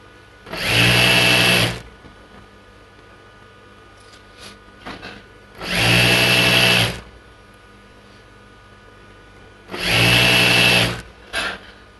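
A sewing machine stitches a churidar pant seam in three loud, even bursts of about a second each, separated by quiet pauses with faint handling clicks.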